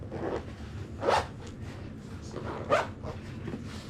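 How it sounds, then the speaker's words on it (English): A zipper on an iMAS kit bag is pulled closed in two quick, close rasping strokes, each a short burst of scratchy teeth, with a quieter rustle in between. "Zip that up."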